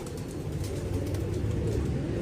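A pigeon coos softly over a low, steady background hum, a brief run of murmuring calls close by.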